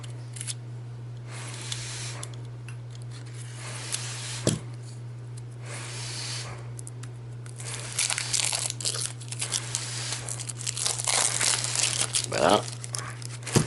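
Cardboard and plastic wrap crinkle and tear as a Villages of Valeria board game box is opened and unwrapped, with bursts of rustling that grow busier toward the end over a steady low hum; a person speaks briefly.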